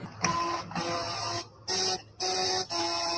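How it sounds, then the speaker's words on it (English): Power window of a Chevy Traverse making a faulty whirring, printer-like mechanical buzz in several short separate bursts with brief gaps between them, quiet and close with no talk. "Chevy Traverse. Customer states my window sounds like Morse code."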